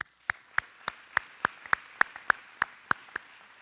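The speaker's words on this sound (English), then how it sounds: "I think the graduates of 2012 should all give yourselves a round of applause" Clapping comes from a graduation audience applauding the 2012 graduates of The Pine School: a dozen sharp, evenly spaced claps in a steady rhythm, distinct and close rather than a dense crowd roar.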